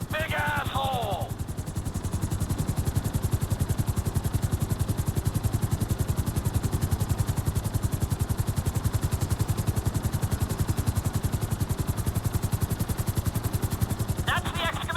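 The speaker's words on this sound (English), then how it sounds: "I need you to hold the chopper above it while I take a look." A helicopter hovers in GTA 5 with a loud, steady rapid rotor chop and engine drone throughout, close and continuous, with brief chirpy radio or voice bursts at the start and end.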